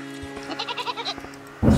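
A goat bleats in the video game Reka, a short series of wavering, nasal bleats at close range, followed by a brief louder rustle at the end.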